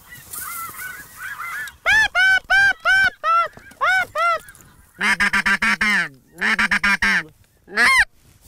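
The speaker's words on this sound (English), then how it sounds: "Snow goose." Snow geese honk loud and close during a goose hunt over a small decoy spread, with bursts of repeated nasal calls in quick runs broken by short pauses.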